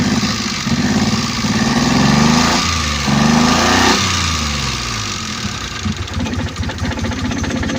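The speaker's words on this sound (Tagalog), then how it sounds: "maingay lang aking makina, patayin ko muna" A car engine idles loudly and close during a radiator check, a steady rough mechanical drone with a faint rhythmic knock running throughout.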